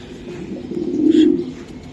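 Long-distance racer pigeons cooing nearby, a soft low rolling coo that swells in the middle and fades, with a faint chirp over it and no talking.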